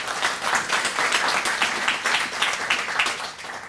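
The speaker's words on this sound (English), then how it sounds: "so we can give her a round of applause" Steady audience applause at an early college celebration event, a dense wash of many hands clapping at even strength throughout, with no voices above it.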